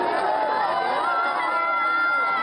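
A large crowd outside Lula's house cheers and shouts in a steady, loud roar that holds throughout without a break.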